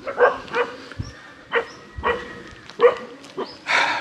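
A dog barks repeatedly in short close bow-wow bursts, roughly every half second, with a few whimpering yips between, loud and alone.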